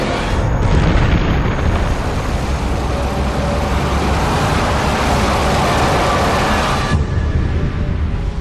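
A huge, sustained cosmic explosion effect depicting the Big Bang: a loud, dense roaring rumble that swells and holds for about seven seconds before the top end drops away, with no voices.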